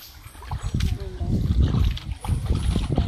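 An elephant bathing in a river, with intermittent water splashes and sloshing close by, while people talk over it.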